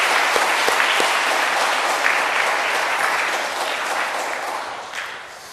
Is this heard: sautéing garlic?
no